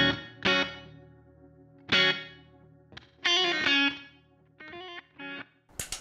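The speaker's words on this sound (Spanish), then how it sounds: "después tengo delay" Electric guitar through a Kemper pedalboard with chorus and delay, several plucked notes and chords ringing out with shimmering, echoing tails, fairly loud and unaccompanied by speech.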